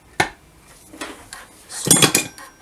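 A Honda Dio scooter crankshaft being drawn in with a puller tool gives a few short, sharp metallic clinks and scrapes, one near the start, one in the middle and a denser cluster toward the end, close by with no talking.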